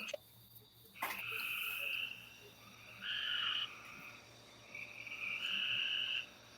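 Frogs croak outdoors at night in repeated bursts: a few clear trilling calls, each lasting about a second, rise out of a quiet background of faint insect chirping.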